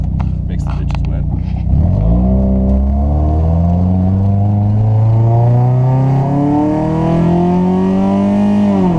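A modified car engine revs up loud and close, climbing steadily in pitch toward the red line after a brief stretch of talk at the start, then holding a high, straining drone.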